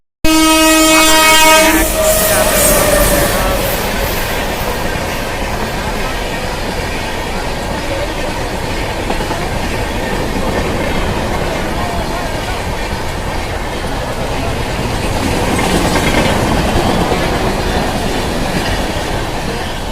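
A train rumbles past close by with a steady roar of wheels on rails, opening with a loud, sustained horn blast.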